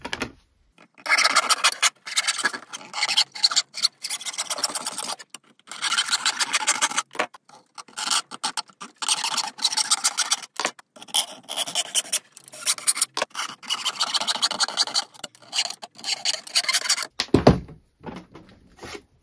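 Roughly cutting out a part for a mosquito trap, a rasping, scraping cutting sound in repeated long strokes, close and fairly loud, broken by brief pauses.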